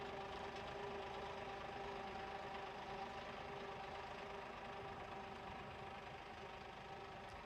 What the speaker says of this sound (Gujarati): આ જગ્યાએથી આપણે ટ્રેક્ટર વારી નાખ્યું